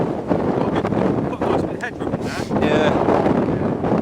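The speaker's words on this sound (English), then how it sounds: "A foggy, windy Steeperton Tor." Gale-force wind on foggy Steeperton Tor on Dartmoor, buffeting a microphone in loud continuous roaring gusts while a person speaks briefly.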